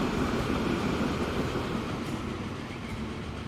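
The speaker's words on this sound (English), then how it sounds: "There goes our double-headed logging train that's going to be upgraded shortly and make that a bit longer." A double-headed logging train rolls past in the video game Transport Fever 2, a steady, loud rumble of rail wagons with a faint clickety-clack and no talk over it.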